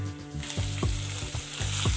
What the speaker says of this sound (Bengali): মাছগুলো এক এক পাশ আমি তিন মিনিট করে ভেজে নেব